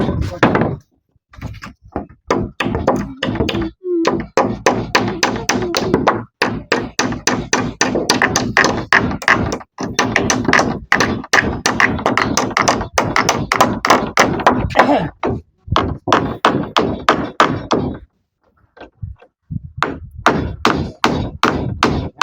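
Nails are hammered in during construction on a house: loud, close blows in rapid rhythmic runs, broken by brief pauses, continuing for over twenty seconds with a faint voice now and then.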